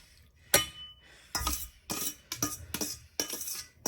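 Drained taco meat tipped back into its pan, a few sharp metallic clinks and scrapes in quick irregular bursts, close and fairly loud with short gaps between.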